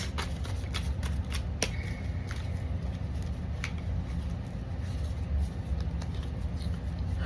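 A deck of tarot cards is shuffled continuously, a dense, papery patter of cards sliding and riffling close by, with a few sharper snaps over the steady rustle.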